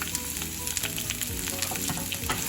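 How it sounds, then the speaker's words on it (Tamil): Onions, dried red chillies, garlic and ginger sauté in hot oil in a pan for a Tamil red chutney, with a steady close sizzle and crackle and occasional scraping stirs throughout. "இப்போ இதில் வெங்காயம், காஞ்ச மிளகாய், பூண்டு, இஞ்சி எல்லாத்தையும் சேர்ப்போம்"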